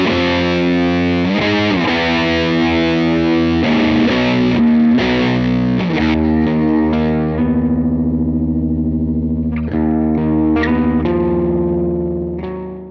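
A doom rock track plays loud and continuous, with heavy distorted electric guitar chords ringing out and sustaining, thick and saturated throughout, no speech over it.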